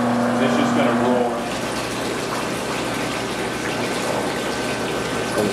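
Juice gushing steadily from a winery press tray as it is tipped toward the drain position, a continuous loud liquid rush over a low mechanical pump hum.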